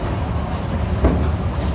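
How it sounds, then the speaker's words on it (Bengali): Steady low rumble of a ride-on train starting off and rolling along, a dense continuous drone heard from on board with no talk. "আমাদের ট্রেন চালু হয়ে গিয়েছে।"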